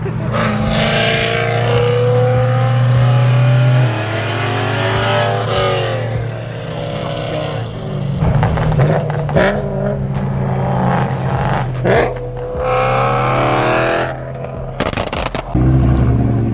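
A tuned car fitted with an expensive IPE exhaust revs repeatedly, its loud engine note rising and falling close by, with brief pops and crackle between pulls.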